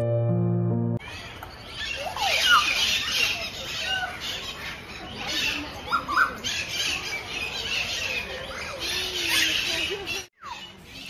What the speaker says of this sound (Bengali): এইখানে পাখির এত কিচিরমিচির শব্দ